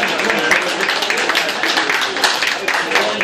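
An audience applauds during the trophy ceremony of the Grand Prix Jean-Pierre Monseré cycling race in Roeselare. Dense, even clapping carries on steadily throughout.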